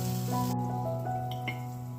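Constant sizzle of eggplant frying in a little oil under a lid, slightly muffled, with a steady low hum beneath and a few faint taps; no voices.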